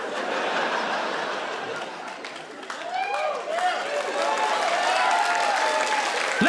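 At a comedy special, a live audience claps steadily with scattered whoops and laughter, a loud sustained wash that swells toward the end.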